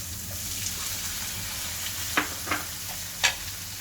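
A tomato hits a hot pan in the middle of making chilli chapathi and fries with a steady, close sizzle, broken by a few sharp crackles and stirring clicks.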